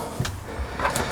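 A drawer in the kitchen of a Hymer MLT 580 4x4 camper slides open, giving a couple of quick soft clunks and a short rattling slide, close by and fairly quiet.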